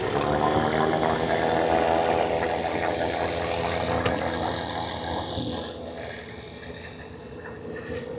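Large vacuum pump with the biggest hose hooked to an HVAC system, a steady droning mechanical hum running throughout and easing slightly toward the end, close and continuous with no talk.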